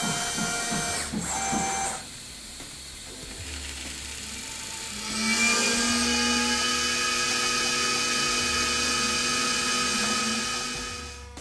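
A desktop milling machine cuts a pre-shaped jewelry wax disc held by a single screw on a two-pin fixture, a steady high-pitched whine and grinding that rises in intensity partway through and holds loud, with no talk.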